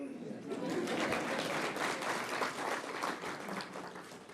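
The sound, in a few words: applause for Namibia at a conference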